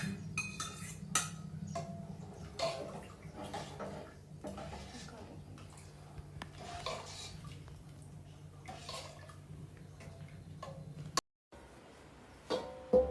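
A spoon clinks and scrapes against a pan while boiled chickpeas are stirred into masala, soft intermittent taps and scrapes with a low background hum and a brief dropout near the end.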